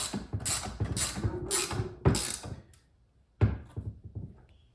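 Seat bracket bolts being tightened on a C6 Corvette for a Racequip seat fit, heard as a run of close mechanical clicks and thunks in bursts, pausing briefly before one more sharp knock and fading ratchet clicks.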